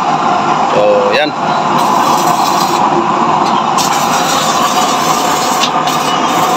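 Used-oil burner stove in LPG mode roaring with a strong flame, a loud steady broadband rush that runs throughout.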